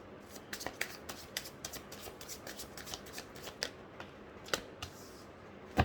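Tarot cards being shuffled and drawn, a close series of soft riffling flicks and crisp card snaps, with a sharper slap near the end and no talk.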